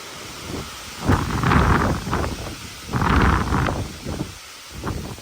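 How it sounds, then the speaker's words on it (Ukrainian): Strong wind buffets the microphone in heavy gusts, rising and falling in loud, rumbling bursts with no voices. "вітер сильний"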